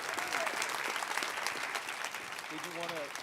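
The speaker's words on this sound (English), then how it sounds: "if we could give our panel a big round of applause" A conference audience claps for a panel, a fairly quiet, steady patter of applause lasting a few seconds, with brief voices or tones breaking through near the end.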